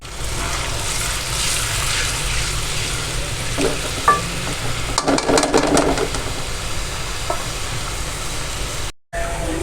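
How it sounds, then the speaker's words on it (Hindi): Chopped onion fries in hot oil in a pan, giving a steady, loud sizzle that runs throughout, with a few stirring clatters in the middle and a brief cut near the end. "ऑयल ऐड करने के बाद इसमें मेरे पास 1 ऑनियन था जिसकी मैंने चॉप कटिंग कर ली है, इसको इसके अंदर डाल दूँगी"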